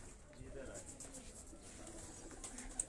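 High-flying pigeons on a rooftop in Quetta, Pakistan, giving soft low cooing sounds at close range, mixed with a faint background murmur.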